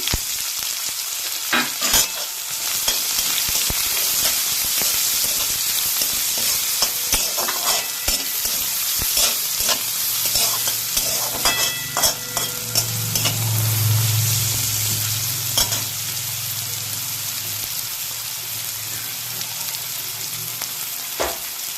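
Finely chopped onions fry in a pan with a loud, continuous sizzle, broken by scattered clicks and scrapes as they are stirred and a low hum swelling near the middle, close up and without any voices.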